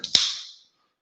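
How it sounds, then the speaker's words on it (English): A sharp metallic crack followed by a fizzing hiss that trails off over about half a second, close and fairly loud. "Gonna crack a beer open"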